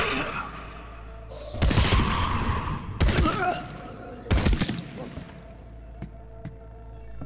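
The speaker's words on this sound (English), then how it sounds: "Let's go with the old Tommy gun here." Bursts of Tommy gun fire in the video game El Paso, Elsewhere come in three loud rapid volleys with shattering debris between them, followed by a quieter tail of scattered impacts.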